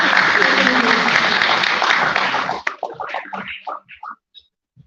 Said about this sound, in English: Big applause to Kyle, please